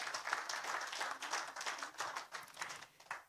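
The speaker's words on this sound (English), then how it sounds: "A round of applause for Madam Shehu Aliou" A dinner audience at the NES30 event breaks into applause, many hands clapping in a dense, lively patter that swells and dips in waves before tapering off, with no speech over it.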